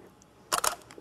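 A camera shutter fires twice in quick succession at close range during a slow-shutter portrait session of a groom, with faint quiet room tone around the clicks.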